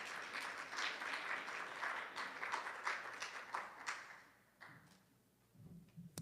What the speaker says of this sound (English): So give a round of applause, please, for that